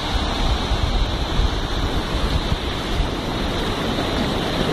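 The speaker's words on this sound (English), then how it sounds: "And I like to walk down the beach." Surf washing onto the sand at Buffels Bay beach, a steady broad roar of breaking waves with wind buffeting the microphone throughout, no voices.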